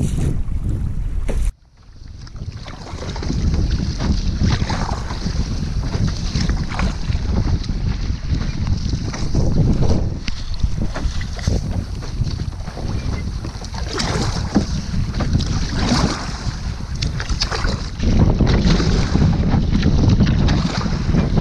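Steady wind buffets the microphone while a small boat is paddled across Loch Lomond, with continuous rushing broadband noise and water movement throughout, loud and close, broken by a brief drop near the start.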